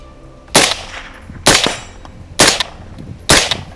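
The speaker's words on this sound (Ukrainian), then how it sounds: "зброя все одно продовжує стріляти" Four sharp gunshots from a UAR-15 rifle that has been fouled with sand, spaced about a second apart, each a loud crack with a brief ringing tail, fairly close, no talking.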